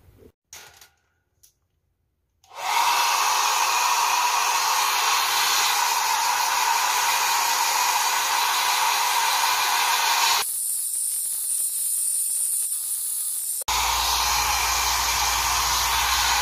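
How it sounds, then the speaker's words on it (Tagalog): A handheld hair dryer blows on hair at home with a loud, steady whooshing hiss that starts after a few seconds of quiet, changes tone briefly as the setting shifts, then resumes at full strength. "magbo-blow dry muna ako"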